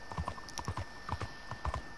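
A horse's hooves clip-clop at a steady walking pace in the video game Red Dead Redemption 2, with even, moderately close footfalls and no talking.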